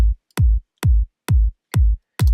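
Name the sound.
two layered kick drum samples together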